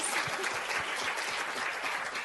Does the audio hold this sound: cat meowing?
no